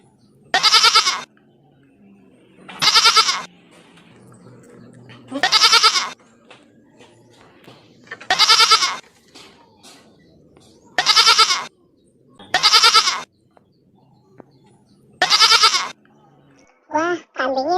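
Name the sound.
goats bleating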